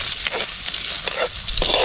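Garlic sizzles hot in a pan for a sauté, a bright steady crackle close by with small bursts of stirring.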